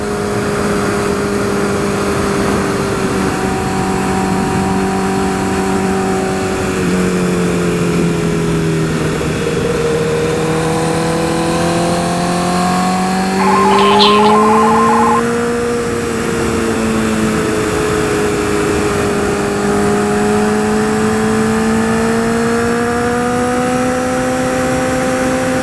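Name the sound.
2012 Honda CBR 1000RR motorcycle engine accelerating in fourth gear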